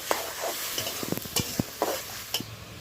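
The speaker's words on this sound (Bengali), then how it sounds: "নেড়ে চেড়ে তিন থেকে চার মিনিট সময় নিয়ে ভালোভাবে কষিয়ে নেব" Raw jackfruit and paneer curry cooks with spices in a pan as a spoon scrapes and knocks in irregular strokes over a gentle, continuous sizzle, close up with no voices.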